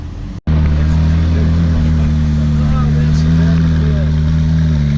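A Ferrari 488 roars past amid a road run of cars, a loud, steady engine note that cuts in abruptly after a brief dropout and holds strong, close and sustained throughout.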